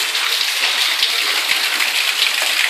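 Water gushes back into a well in Bangalore after a valve is closed during pre-monsoon rains, a steady, loud, close rushing and hissing flow with no pauses.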